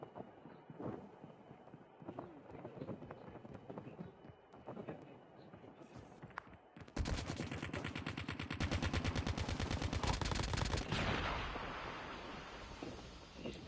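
Rapid automatic gunfire rattles in the Call of Duty: Mobile video game, a loud sustained burst of shots after several seconds of players talking, then tapering off as talk continues underneath.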